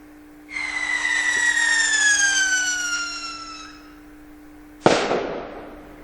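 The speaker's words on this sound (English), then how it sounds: "let's go for firework" A firework sound effect: a long descending whistle rising in loudness then fading, followed by a single sharp bang with a short decaying tail.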